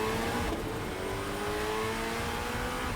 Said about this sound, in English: We did have a little snippet of how the engine sounds in this clip of the video.